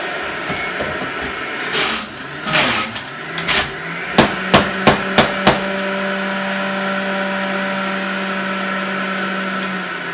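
An electric juicer works through organic apple and carrot, with loud clattering knocks and then a quick series of sharp thuds as pieces drop in, followed by a steady motor whine that carries on alone.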